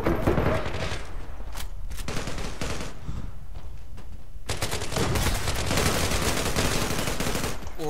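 Rapid automatic gunfire and blasts from the online shooter game Zula, loud bursts clustered at the start and again in a dense stretch after the midpoint, with a quieter gap between.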